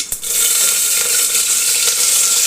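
Chopped onions and green chillies sizzling loudly in hot oil in a pan, a steady close crackling hiss with no voices.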